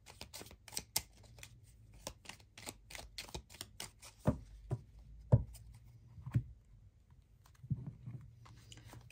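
Tarot cards being shuffled by hand: a run of quick, crisp riffling clicks early on, then sparser single card slaps and taps, close and fairly quiet.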